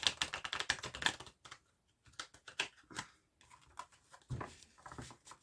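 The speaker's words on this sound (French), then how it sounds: "je vais bien brasser les cartes pour essayer d'aller chercher de nouvelles énergies" Tarot cards shuffled for a psychic reading, heard as close, rapid clicking and riffling bursts, busy at first, then a quiet gap and sparser taps and flicks.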